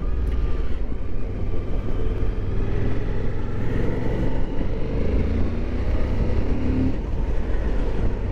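A 2021 Suzuki V-Strom 1050 motorcycle on the road, its engine and wind roar forming a loud, steady, close rumble that holds throughout without a clear rise in pitch.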